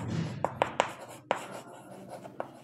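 Pen writing a math answer by hand, with several sharp taps and scratchy strokes spaced irregularly, close up over a faint background hum and no talking.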